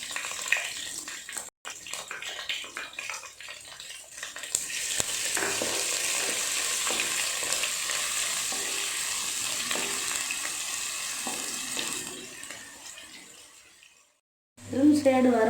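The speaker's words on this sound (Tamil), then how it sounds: "வெங்காயம் போட்டுக்கோங்க." Onions frying in hot oil in a pan while a fish curry is being cooked, a sustained close sizzle with stirring scrapes that fades out near the end before a voice starts talking.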